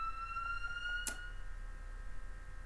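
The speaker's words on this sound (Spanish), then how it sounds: "esta ambulancia me está haciendo renegar" An ambulance siren passes outside, heard as a faint, steady wailing tone with harmonics, distant and muffled indoors, briefly interrupted by a couple of sharp clicks.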